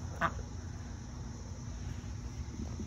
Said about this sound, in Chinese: 我这是小鸭。